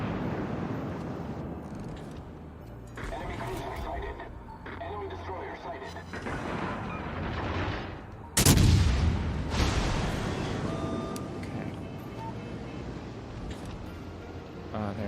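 Naval gunfire in the World of Warships video game, with British Tier V ships in battle: a rumbling engagement builds to a loud, sudden salvo boom near the middle, then trails off under ongoing gameplay commentary.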